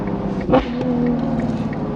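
A straight-piped Ferrari 812 GTS V12 engine drones steadily at close range, with a brief surge around a downshift before the tone settles into a lower, grunty hum.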